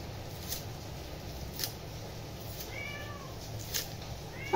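Two cats meow a few times, faint and somewhat distant, over a steady low background hum in a quiet home.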